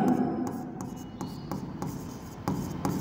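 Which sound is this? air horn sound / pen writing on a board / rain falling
pen writing on a board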